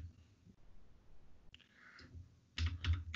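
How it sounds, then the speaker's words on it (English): Typing on a computer keyboard at a desk, with a few faint clicks early on and then a louder, quick cluster of close key presses near the end, without talk. "You just type in"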